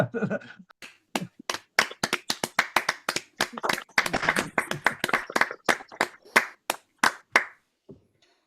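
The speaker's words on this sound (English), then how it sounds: "perhaps we should have a round of applause at this point" A round of applause from a small crowd, with hands clapping in quick, uneven bursts for several seconds, fairly close.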